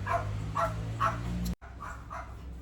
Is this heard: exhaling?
no